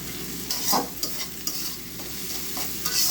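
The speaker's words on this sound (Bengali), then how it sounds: "এই যে চিংড়ি মাছ ভালো করে কষাই নেব" Prawns are stirred and sautéed in a hot pan, a loud, close sizzle broken by repeated scraping strokes of a spatula at an uneven pace, with no talking.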